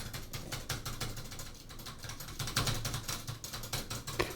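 Quiet, rapid clicking of computer keyboard keys in a Surface Pro 7 setting, irregular bursts of taps and clacks heard close with no talking.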